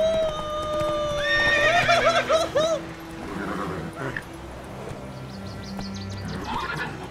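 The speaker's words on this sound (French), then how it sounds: "C'est un cheval magique, comme dans Skyrim" A magic horse in a video game gives a loud, high whinny, then its hooves clip-clop at a gallop, with other game sounds trailing off behind.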